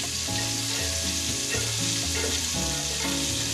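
Butter sizzles in a pan for a Texas toast grilled cheese, a steady bright crackling hiss running continuously beneath loud background music.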